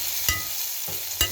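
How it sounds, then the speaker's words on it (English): Fried apples sizzling in a pan, stirred with two brief scrapes of a utensil over a constant close frying hiss, no voices. "I've got to stir these apples"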